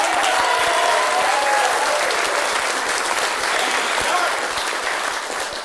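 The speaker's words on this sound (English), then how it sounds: "Please give a huge round of applause to all our magnificent acts" A music hall theatre audience gives a round of applause for the evening's acts, a loud, dense, continuous clapping that tapers slightly toward the end.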